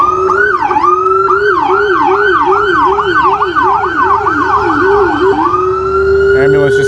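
A loud ambulance siren wails close by, cycling rapidly up and down in a repeating yelp, then shifting to a steady tone near the end.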